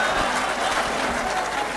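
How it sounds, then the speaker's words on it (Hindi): Applause from the audience at a large Delhi mushaira poetry gathering, a brief, steady wash of many hands clapping together, loud and continuous. "जोरदार तालियां"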